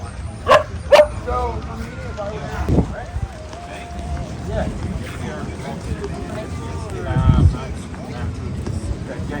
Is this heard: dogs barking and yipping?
yes